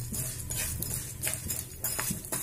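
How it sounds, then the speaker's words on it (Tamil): A spoon scrapes and stirs urad dal frying in a pan for Tamil-style lentil chutney, with irregular metallic scrapes and soft rattling against the pan, close and moderately loud, with no talking. "நல்லா இதை கலந்து விட்டுக்கோங்க"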